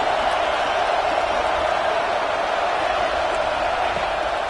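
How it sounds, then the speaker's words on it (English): A home crowd at a college football game makes a dense, sustained roar that holds steady and loud throughout. "Man, this crowd really affecting the football game."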